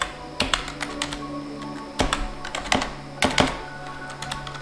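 Keys clatter on a computer keyboard as a command is typed, irregular bursts of sharp close taps with brief pauses between groups, no voice over them.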